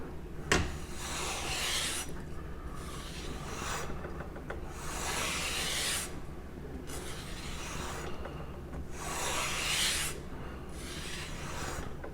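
A blade stroked back and forth along the coarse side of a leather strop, in about five slow, soft rasping passes separated by brief pauses, close and quiet, with no talking.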